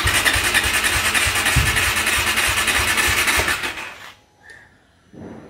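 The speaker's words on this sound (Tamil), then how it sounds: "வண்டியை ஸ்டார்ட் பண்ணி விடுவோம் கொஞ்சம் நேரம்." A KTM 390 Adventure motorcycle engine runs with a steady, loud, close mechanical idle for about four seconds, then cuts off, leaving near silence and a faint brief sound at the end.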